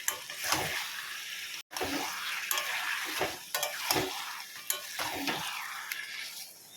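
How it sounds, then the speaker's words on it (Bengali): Chunks of mutton and large potatoes are stirred and browned in a hot pan, a steady sizzle of frying broken by scraping spatula strokes at an uneven rhythm, close and fairly loud, with no talk. "এবার ভালো করে কষাবো।"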